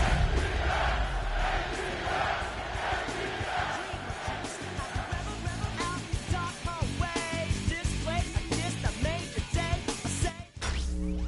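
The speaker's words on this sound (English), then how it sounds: "the crowd is ready" Stadium crowd roaring and cheering in an EA Sports football video game, a loud sustained swell of many voices with rhythmic chanting surges, fading into scattered shouts near the end.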